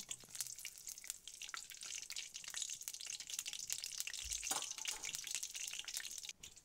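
Dry red chillies and five-spice seeds fry in hot oil, giving a faint, steady sizzle with scattered crackles and small pops close by.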